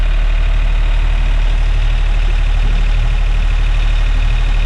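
A Yanmar marine diesel engine idles steadily with a loud, even mechanical drone, close by and without talk, run to check for squealing from a worn water pump or bearing.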